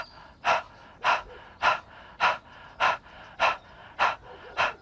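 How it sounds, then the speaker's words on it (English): Rhythmic panting out through the mouth during a yoga breathing exercise, eight quick breathy exhalations evenly spaced about every half second, close and clear with no talking. "we're going to start by gently panting like a dog together out the mouth"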